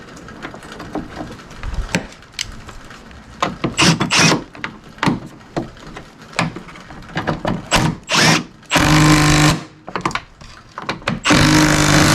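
Power drill or impact driver running bolts into a Chevy/GMC pickup tailgate, several short whirring bursts with clunks between them, then two longer sustained runs near the end, close and loud with no talk.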